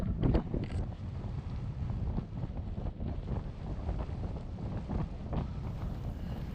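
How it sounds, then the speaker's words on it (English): Wind blowing hard across an exposed mountain ridge in Torridon, Scotland, a continuous gusty roar buffeting the microphone with rising and falling surges. "the wind's picked up as well"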